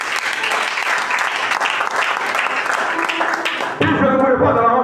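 A church congregation bursts into loud, dense applause that carries on steadily. Near the end, cheering voices mix in over the clapping.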